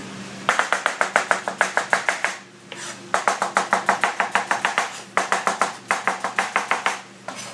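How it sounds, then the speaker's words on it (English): Knife chopping onions thinly on a board for French onion soup, fast rhythmic loud taps in three bursts separated by short pauses, close and alone. "as the onions are slicing"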